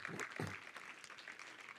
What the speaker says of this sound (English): please give yourselves a round of applause for your hard work